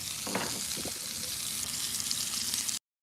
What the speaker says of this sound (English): Oh yeah, we got a nice sear.